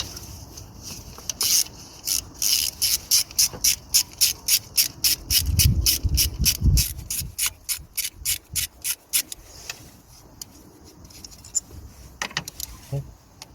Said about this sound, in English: Just gonna undo the second bolt.